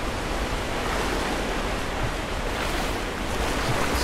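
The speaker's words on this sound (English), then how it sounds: "Maybe I can raise the water." Rushing, surging water rising in the video game Rise of the Tomb Raider, a steady broadband wash like surf that holds evenly loud throughout with no voices.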